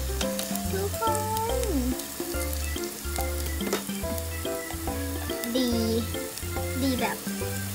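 Crispy pork skin crackles and sizzles fresh from an air fryer after roasting at 200 degrees, a dense, continuous spitting crackle with scattered sharp pops, close and loud, with a voice briefly heard.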